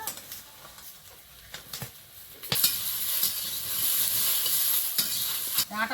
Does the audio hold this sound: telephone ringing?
no